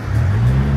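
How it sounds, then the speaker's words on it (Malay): A police car on a street near an intersection in Greece, a brief steady engine hum with a low tone rising slightly as it passes nearby. "Tu ada kereta polis pula."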